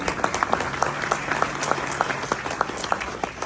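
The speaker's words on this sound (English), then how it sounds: "One more round of applause for them." Applause from an audience at a Rotary gathering for youth exchange students, a smaller crowd whose individual claps stand out as distinct sharp hits in a lively, continuous patter.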